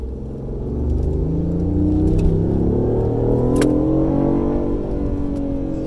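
A BMW i8 engine revs under load with its exhaust valve held open, giving a loud, close, deep droning roar that rises steadily in pitch and stays continuous throughout, with no voices.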